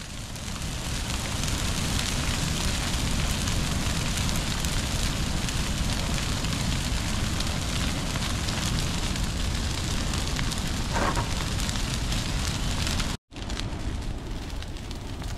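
A prescribed burn at night consuming tall gallberry brush, with a loud, continuous crackling and roaring fire and dense popping embers heard close up, with a brief dropout near the end.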